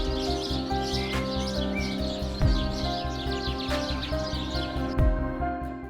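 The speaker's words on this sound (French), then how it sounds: "Lui, c'est le moineau friqué, un proche cousin du domestique." A Eurasian tree sparrow chirps repeatedly in short, bright bursts, fairly close and clear, over a steady low background hum with occasional sharper knocks.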